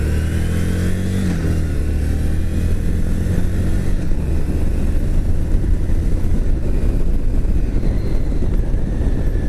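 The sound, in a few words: Harley-Davidson Street XG500 motorcycle ridden through the gears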